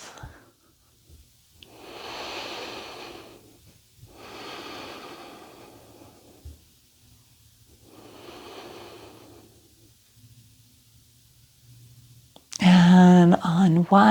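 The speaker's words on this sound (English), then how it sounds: "And breathe." Slow, deep breaths during a gentle yoga stretch, three long soft exhales drawn out over several seconds each, close and quiet, followed by a louder burst of sound at the end.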